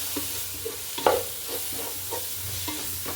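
Chili, coriander and turmeric powders frying in a pan for egg biryani, a soft low sizzle with rhythmic scrapes of a spoon stirring roughly every half second.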